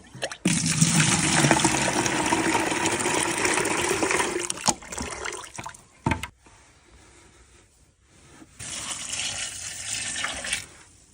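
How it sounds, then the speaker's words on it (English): Water pours steadily from a tap or container into a vessel to mix in salt, a loud gushing stream for several seconds that stops, followed by quieter handling sounds before a second burst of pouring. "Have to get some water to mix in that salt."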